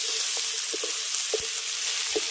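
Small diced potatoes frying with spices in a pan give a steady, close sizzle, with a few light taps of a utensil scattered through, and no voices.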